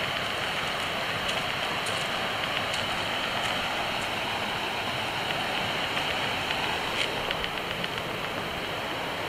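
Constant dense rush of a creek flowing through rainforest bush near a camp, steady and fairly close with no pauses, plus faint ticks scattered on top.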